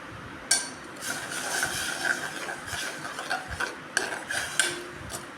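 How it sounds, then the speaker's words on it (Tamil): A ladle stirs jaggery dissolving in water in a pot, giving irregular metallic clinks and scrapes over a soft continuous swishing, close by and moderately quiet, with no voices. "இதை வந்து கரண்டி வச்சு நம்ம கிளறி விட்டுக்கலாம்"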